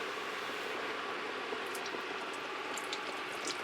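Flour-coated chicken fries on an induction cooker in a caravan kitchen, a steady close hiss of bubbling oil with faint crackles and pops scattered through it, heard alone.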